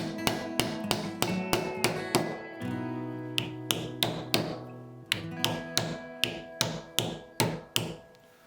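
A wooden wedge is driven into a new Gransfors Bruk axe handle with a block of wood on top, a series of sharp, evenly spaced hammer taps, some ringing briefly, close and alone.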